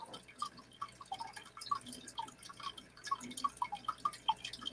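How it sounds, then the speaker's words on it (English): Water running constantly, heard as a close, quiet trickle with rapid irregular drips and splashes continuing throughout, no talk over it. "But the water was constant, so it drowned out your mic"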